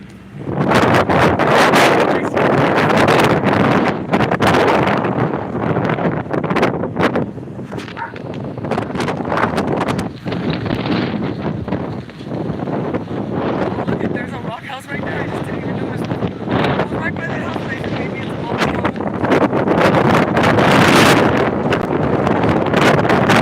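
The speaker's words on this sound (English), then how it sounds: "look at all that wind" Strong wind blows outdoors near Freeport, a loud, continuous roar buffeting the microphone that rises and falls in gusts for the whole stretch, with people's voices mixed in.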